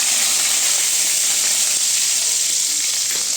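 Dried red chilies and curry leaves crackling in hot oil, a loud, dense, continuous hissing sizzle close up with no voices.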